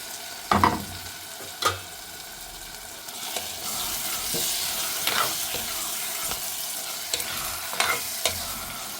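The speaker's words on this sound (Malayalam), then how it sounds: "ഇനി വാഷ് ചെയ്ത് വെച്ച് ചെമ്മീനൊക്കെ ഇട്ട്" Washed shrimp sizzles and crackles in a hot pan for a Kerala-style shrimp roast, a steady frying hiss broken by sharper stirring scrapes and pops close by, with no voices.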